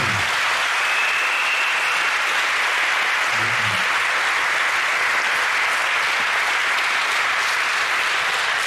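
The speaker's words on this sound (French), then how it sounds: "Est-ce que nous pouvons acclamer le Seigneur Jésus" A large crowd at a national prayer gathering applauds and cheers loudly and continuously, a dense sustained roar of clapping that fills the whole stretch without talk.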